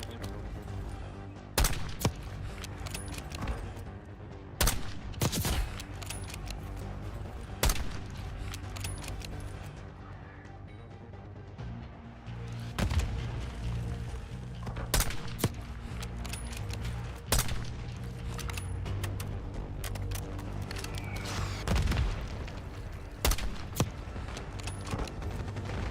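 Mortar and small-arms fire in Call of Duty Black Ops 6: heavy booming impacts land every few seconds over a continuous crackle of distant shooting, with no talk.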